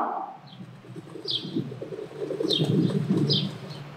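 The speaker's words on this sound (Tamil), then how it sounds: "புறா குணுகும், புறா குணுகும். அதோட சத்தத்தை கேட்கலாம்." A pigeon coos softly in a low, throaty, rolling rhythm, with a few high chirps from other birds scattered above it.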